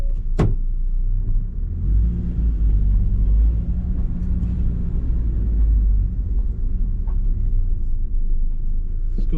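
A Ford Ranger pickup pulls away with its tires spinning, giving a steady, heavy low rumble of engine and road noise that holds throughout, close to the listener.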